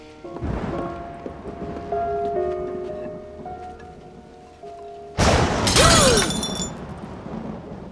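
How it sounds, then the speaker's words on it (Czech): A sudden loud crack of thunder in a storm, preceded by a sharp shattering burst and ringing tones, then a heavy rumbling roar breaking in abruptly near the end, with rain-like hiss beneath. "Ten hrom mě vylekal."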